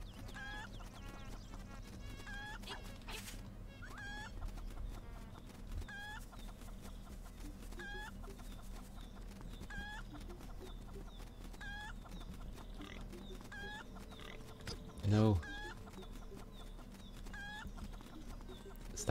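Chickens cluck repeatedly in The Legend of Zelda: Link's Awakening (2019), a quick rhythmic series of soft clucks over quiet game background, with a brief louder thump near the end.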